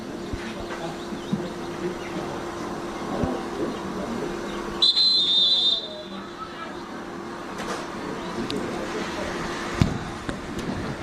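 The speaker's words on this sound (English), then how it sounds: "Referee blows the whistle." A referee gives one clear, piercing whistle blast of about a second at a Derry v Tipperary camogie league play-off. It sounds over the crowd noise and ongoing commentary.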